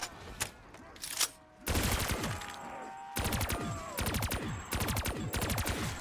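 Video game gunfire in a Call of Duty Zombies map, rapid bursts of automatic fire and single loud shots in quick rhythmic volleys with short pauses between, close and dominant.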